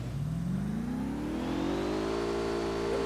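A motorcycle engine in a video game revs steadily upward in pitch, a loud, continuous, close mechanical drone with no talk over it.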